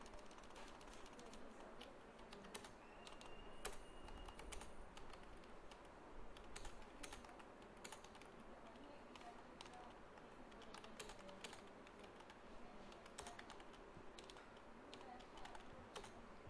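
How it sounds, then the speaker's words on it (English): Steady typing on a computer keyboard while entering text in MS Word, with rapid irregular key clicks running throughout at close range and no talking. "while I am typing the text"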